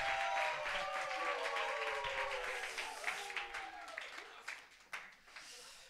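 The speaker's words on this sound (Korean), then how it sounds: "우리 큰 박수로 환영하도록 하겠습니다." A church congregation at a Sunday service claps to welcome a pastor, moderately loud applause under lingering talk and voices that fades into scattered claps.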